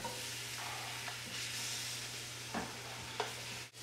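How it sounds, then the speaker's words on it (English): Ripe plantains and onions sauté in a pan with a soft, steady sizzle, broken by a few scraping stirs of the utensil close by, with no talking. "The onions are looking good to me, so I'm going to move them to the side and just throw in these plantains."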